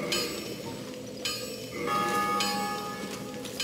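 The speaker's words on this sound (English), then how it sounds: "Anytime you hear a tower bell when you're in the Undead Parish" A tower bell tolls in the Undead Parish area of the Dark Souls video game, with two clear ringing strikes whose tones hang and decay over a steady background of in-game ambience.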